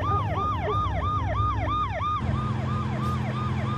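Ambulance siren wailing in a rising-and-falling pattern during a TV action drama chase, loud and continuous over a steady vehicle rumble, the siren's tone shifting slightly partway through.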